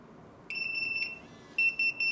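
A Retekess TD173 restaurant pager emits rapid, pulsing high-pitched electronic beeps in two close bursts, loud and near, over a faint room hum.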